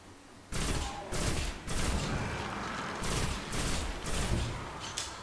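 Rapid bursts of weapon fire in the video game Destiny crack out in quick, loud volleys, several clustered shots overlapping in dense, repeated salvos.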